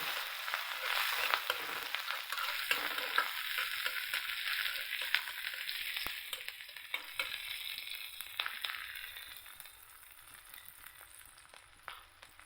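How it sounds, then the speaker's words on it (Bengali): Chopped onion sizzling in oil in a pan for pasta, a steady close hiss with faint stirring scrapes, fading slightly over time. "পরিমাণ মতো তেল দিয়ে নিয়েছি। এখন দিয়েছি পেঁয়াজ কুচি,"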